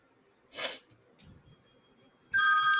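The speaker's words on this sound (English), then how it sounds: "Why is everything ringing?" A short sniff-like noise, then quiet rustling, and then an electronic ringtone suddenly starts and continues loudly until the end.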